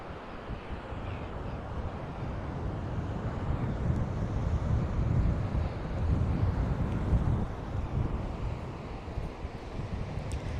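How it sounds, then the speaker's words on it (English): Strong wind buffets the microphone on the South Australian coast, a loud, continuous roar and rumble that swells and eases over ten seconds, with no voices. "Not speaking too much at the moment because it's extremely windy."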